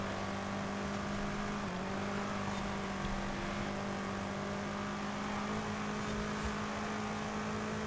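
Steady drone of a race car engine during a Forza Horizon race, held at a constant pitch with a slight dip midway, moderately quiet and unbroken throughout.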